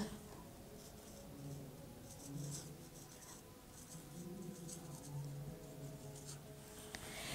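Faint, steady scratching of a pen on paper, a soft continuous scribble with small pauses under quiet talk in a room.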